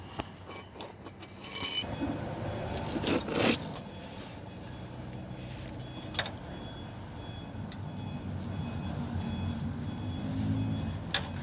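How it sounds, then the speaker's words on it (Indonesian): Metal wrench working on a car's oil filter, with scattered clinks, taps and scraping of tool against metal, fairly quiet over a faint background hum. "saya mau buka pakai ini, pakai kunci nih."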